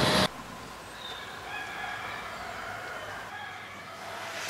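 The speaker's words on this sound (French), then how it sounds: "Et ce putain de coq qui gueule toujours." A rooster crows once over quiet outdoor background hiss, a drawn-out, wavering call lasting about two seconds, heard at moderate distance after a brief loud burst at the start.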